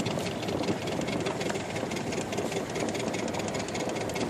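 Engine of a red wooden boat, the Lille Dan, among old wooden ships at Sønderborg, chugging steadily and close with a continuous knocking rhythm, no talk over it.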